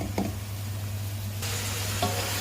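Alexandrian-style liver frying in a pan, a steady close sizzle running throughout with a couple of brief knocks as the pieces are turned, and the hiss brightening partway through.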